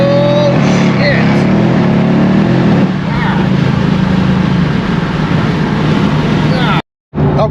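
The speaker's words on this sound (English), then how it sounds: "it's really hard to enjoy all that power because it just keeps spinning" A Mercedes CLS63 AMG on E85 fuel accelerates with its wheels spinning, the engine droning loud and steady close by, rising once mid-run before cutting off abruptly near the end.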